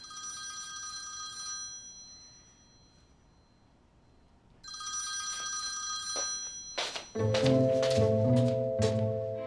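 An indoor telephone bell rings in long, bright electronic trills, stops for a couple of seconds, rings again, then gives way to a clatter and a louder tonal ring near the end.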